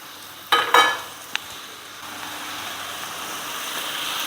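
Quail pieces and chopped tomatoes fry in a pan, with a few loud clatters as the mix is stirred early on, then a steady broad sizzle that carries on alone.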